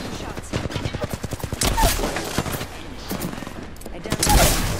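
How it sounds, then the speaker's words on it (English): Rapid automatic gunfire from a video game rattles in quick bursts, loud and dense, with a voice talking over it. "Shots."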